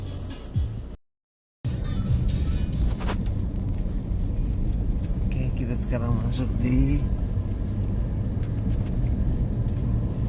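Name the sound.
car driving at night with air conditioning running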